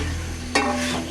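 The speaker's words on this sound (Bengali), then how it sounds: "এখন কষাইতেছি ভালোভাবে, আপনারাও কষিয়ে নেবেন।" Beef being stirred and fried in a pan, with a steady sizzle under a low hum and one sharp scrape of the spoon near the middle.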